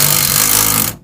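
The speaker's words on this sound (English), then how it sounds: "we're putting them in with the impact now." An impact driver sinks self-tapping screws into a Nissan NV van while running boards go on, giving one loud, close, continuous grinding burst of about a second that cuts off abruptly.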